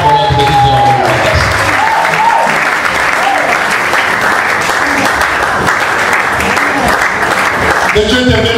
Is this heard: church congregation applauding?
yes